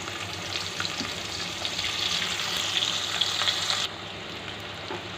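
Chopped onions fry in mustard oil in a kadai, a steady close hiss and sizzle that drops abruptly near the end, with faint stirring.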